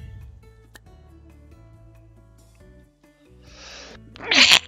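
A single sharp sneeze bursts out near the end, close and loud, after a stretch of quiet background music.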